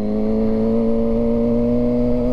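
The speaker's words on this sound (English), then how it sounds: "this bike is loud." A loud 2007 Suzuki GSX-R600 sport bike engine holding a steady high rev, a close, continuous buzzing drone with a strong, unwavering pitch throughout.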